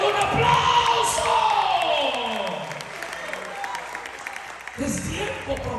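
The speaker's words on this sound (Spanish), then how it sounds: "Alguien le da un aplauso." Church congregation clapping during a Spanish-language evening worship service in New Jersey, a broad steady wash of applause that slowly thins, with voices and some cheering mixed in.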